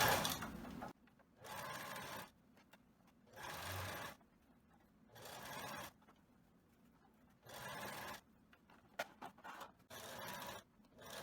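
A sewing machine stitches wide elastic onto stretched fabric in several bursts of rapid whirring, each a second or two long, separated by quiet pauses while the fabric is repositioned, close up and fairly soft.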